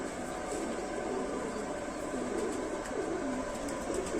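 A Lal Sira pigeon hen sitting on her eggs coos faintly and repeatedly, low and soft beneath a steady hiss of room noise.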